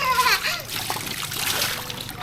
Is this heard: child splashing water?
yes